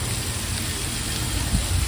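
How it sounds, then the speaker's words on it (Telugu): Heavy rain pouring outside a stopped train, a dense, steady roar of falling water with low rumble underneath. "వర్షం అయితే ఎలా పడుతుంది ఫుల్గా అయితే"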